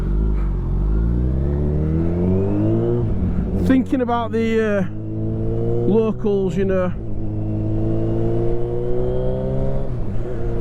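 A Kawasaki Ninja 1000SX fitted with a Black Widow exhaust hums along, then gives two sharp throttle blips that rise and fall, under a rider's near, steady talk.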